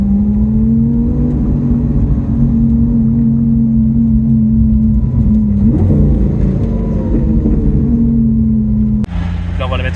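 Lamborghini Aventador engine while driving, a loud steady low hum with a strong tonal drone that shifts slightly mid-way, heard from inside the car with people talking over it.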